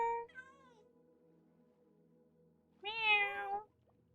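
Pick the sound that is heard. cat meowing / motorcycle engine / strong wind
cat meowing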